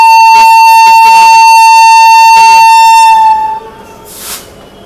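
A passenger train pulls out from a Nagpur railway station platform, its loud horn sounding as a long steady blast that cuts off, followed by quieter platform ambience with voices in the background.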